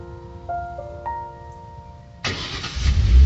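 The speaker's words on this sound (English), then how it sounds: "And the car starts." A car engine fires up by remote auto starter. A few soft tonal beeps come first, then the engine catches abruptly and settles into a louder, steady running rumble.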